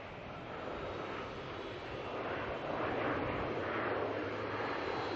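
An airplane departing Melbourne International Airport, a broad jet-engine roar heard from a distance that swells gradually and stays steady, with no voices.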